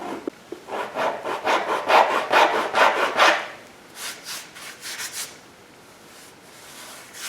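Hand sanding of body filler on a third-generation Camaro bumper fascia: a run of close, rhythmic rasping strokes, then a quieter, lighter set of strokes after a brief pause.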